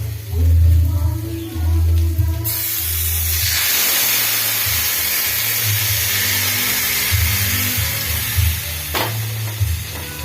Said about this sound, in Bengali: এতে আমি একটু জল দেব জলটা দিতে যাতে ডাঁটা আর ডালটা সেদ্ধ হয়ে থাকে